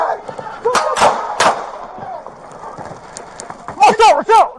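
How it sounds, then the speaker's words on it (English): Deputies fire beanbag rounds at a Florida man armed with knives: a few sharp, loud bangs ring out over frantic shouting and scuffling. "It's actually 4 beanbag rounds that go off."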